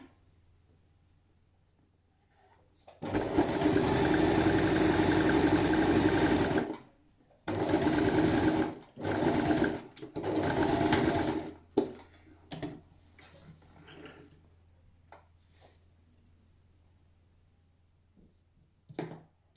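A sewing machine stitches a zigzag seam on a fabric face mask in a long steady run of rapid needle chatter, then stops and starts in three shorter bursts, followed by faint clicks and handling noise. Close, with no talk.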